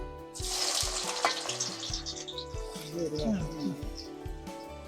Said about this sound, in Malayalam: ഇനി അടുത്തതായി നമ്മൾ പാവയ്ക്ക വറുക്കാൻ പോകും